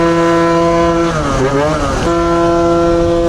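A scooter climbing a hill at night at about 43 mph, its engine a steady, loud harmonic drone that wavers and shifts pitch midway through before settling back into an even hum.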